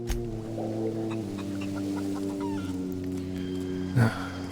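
A chicken in the video game The Outer Wilds clucks in a few short, close calls, with a sharper squawk near the end over a steady tonal backdrop.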